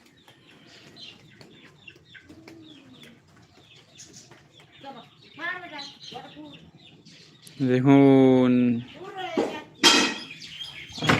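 Chickens and their chicks come in together, giving soft scattered clucks and a few louder squawks that rise near the end while someone talks over them.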